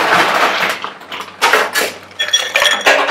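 Ice cubes clink and rattle into a cocktail glass at a Singapore cocktail bar, giving a series of bright, irregular glassy knocks up close with no talking.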